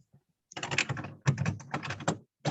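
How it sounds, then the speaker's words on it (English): Busy typing on a computer keyboard, heard as dense bursts of rapid, close clicking broken by short pauses during an online meeting. "Somebody is very busy typing."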